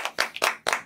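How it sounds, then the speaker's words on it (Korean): A small group of about six people claps briefly at a Korean discussion meeting on trade policy, with four distinct bursts of hand claps, close and moderately loud, and no talking over them. "박수 한번 칠까요?"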